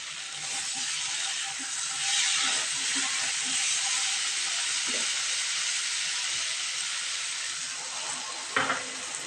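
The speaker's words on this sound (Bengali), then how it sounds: "5 মিনিট কষানোর পর জলটা আমি দিয়ে দিচ্ছি।" Water poured into a pan of frying potato curry for alu dum, a steady loud hiss and sizzle that holds throughout, with a few small clinks near the end.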